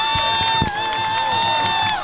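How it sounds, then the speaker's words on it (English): Crowd noise at a high school football game, a sustained distant roar of fans with a thin whistling tone above it and faint thumps underneath. "Now we're finally getting a little crowd noise going"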